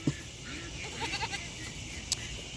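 Goats on a farm bleat softly a few times over steady background noise, fairly distant, with a sharp knock near the start and another toward the end.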